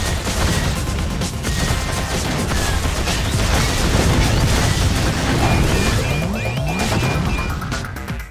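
Spaceship weapons firing continuously at enemies in the iPhone shooter ARC Squadron: a dense, loud wash of rapid blasts and crashing impacts running the whole time, with no voices.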